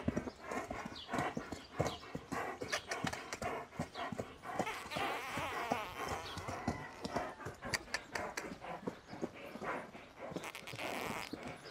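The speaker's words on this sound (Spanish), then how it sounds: "Y el caballo tiene que bailar con velocidad, altura y sin perder el ritmo" A dancing horse stamps its hooves on a wooden board in rapid, rhythmic clip-clop beats, loud and close, with busy percussive texture throughout and a dog faintly audible.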